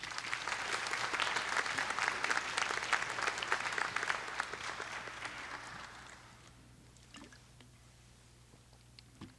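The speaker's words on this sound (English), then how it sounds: "Congratulations, applause for all our colleagues." An audience at a fall convocation applauds new faculty colleagues: loud, dense clapping for about five seconds, then thinning to a few scattered claps over a low steady hum.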